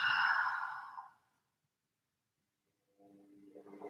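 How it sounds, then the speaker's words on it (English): A deep exhale through the mouth during a yoga session, a breathy rush of air lasting about a second, then silence before a softer breath begins near the end. "take a deep breath in. And exhale through the mouth."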